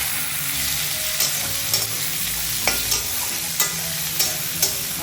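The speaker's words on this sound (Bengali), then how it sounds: "এগুলো দিয়ে ভালোভাবে আমি একটু নেড়ে নেব" Cashews and yellow, black and red raisins are stirred in a frying pan for veg chira polao. Close, steady sizzling runs under regular scraping strokes of a spatula, about one every half second, and nobody talks.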